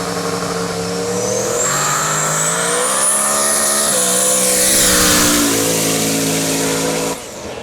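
Chevy Camaro launching down a rough drag strip, its engine roaring loud and rising steadily in pitch through the gears over several seconds before the sound cuts away abruptly.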